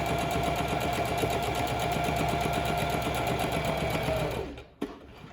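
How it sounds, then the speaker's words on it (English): A sewing machine stitches fabric for a whale stuffie along a half-inch line in a fast, steady, close run, then stops abruptly at a corner, followed by a soft click and quiet. "I'm just following that 1/2 inch line. When I get to the corner, I'm going to pivot"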